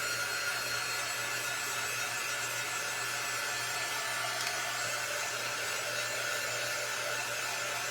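A hair dryer blows steadily over printed tissue paper, a constant close whooshing drone with a low motor hum underneath, unbroken for several seconds and without any voices.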